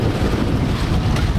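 Strong wind of around 18 to 19 knots roars across a Leopard 45 catamaran crossing the Panama Canal, a loud, continuous buffeting rush with no talking.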